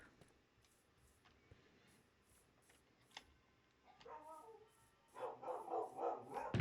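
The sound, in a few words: dogs barking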